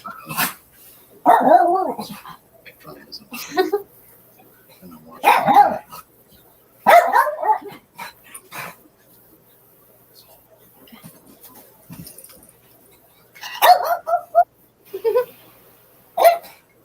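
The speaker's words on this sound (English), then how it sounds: "Sorry about my dog barking." A dog barks in scattered sharp bursts, two or three close together, then a pause and a few more, heard at moderate distance indoors during a home live stream.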